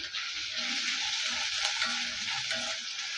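Chicken liver sautés in a hot pan with ginger garlic paste and curry leaves, giving a steady, close sizzle with soft stirring scrapes and no talk.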